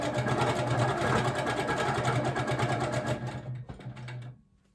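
A sewing machine quilts ice-dyed fabric with a fast, steady needle hum that runs evenly and close, then slows and stops near the end.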